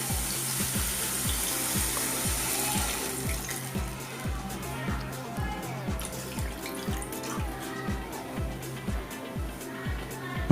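Water pouring into a pan while making pineapple kesari, a steady splashing stream that stops partway, followed by quieter kitchen clatter and rattling.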